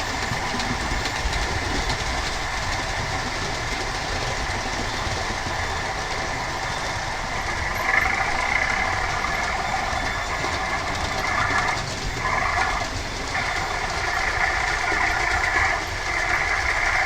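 Train sound effect of a steady rumbling engine with faint rhythmic clatter, continuous and moderately loud throughout, with no talk over it.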